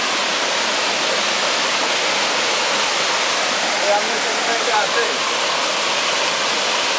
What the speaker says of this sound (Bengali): এটা বাংলাদেশের সবচেয়ে বড় ঝর্ণা হবে